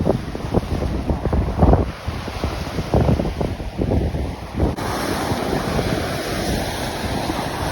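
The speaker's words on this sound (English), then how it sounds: "The breeze is quite cool." Steady wind buffeting the microphone on a trail at Pictured Rocks, with gusty low rumbles and thumps, loud and close, then a smoother constant rush of air.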